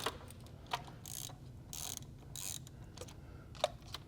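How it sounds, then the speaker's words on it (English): A ratchet wrench loosens the oil filter housing bolts on a BMW B58 engine, giving faint, quick bursts of clicking with brief pauses in between in a quiet setting. "start with loosening bolt number 7"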